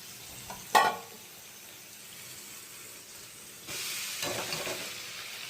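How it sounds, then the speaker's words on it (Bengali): Sago is stirred into a pan with potato, tomato and carrot, a sharp scrape of the spoon at first, then a quiet lull before a steady sizzling rises and continues. "ব্যাস সাবুটা দিয়ে এবার একটু নাড়া দেবো, নাড়া দিয়ে তারপরে নামিয়ে দেবো"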